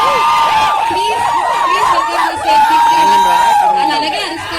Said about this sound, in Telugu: అలాగే అరుస్తారు మీ ఫ్యాన్స్.